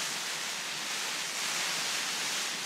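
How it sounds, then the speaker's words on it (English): Heavy rain at a wild camp on Scafell Pike in the Lake District makes a dense, steady, unbroken hiss that fills the whole stretch without pauses or voices. "To be honest, it's pissing it down."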